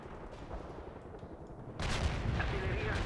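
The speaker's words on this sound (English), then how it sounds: "The guns have not stopped firing since the battle began" Heavy gunfire and artillery in the real-time strategy game World in Conflict during a POW camp battle. Distant rumbling fire suddenly jumps into a loud, sustained barrage of booming shots and bursts.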